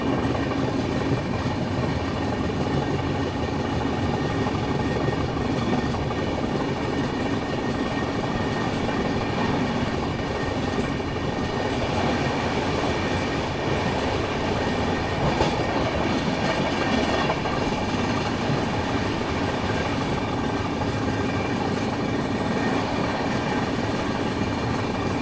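The Kolkata Humsafar Express passenger train runs steadily, heard from on board as a continuous rumble with rhythmic clickety-clack of wheels over rail joints and occasional faint squeals, with no talk.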